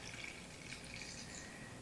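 Hydrosol pours steadily through a funnel into a jar, a continuous close trickle and splash of liquid with no voices.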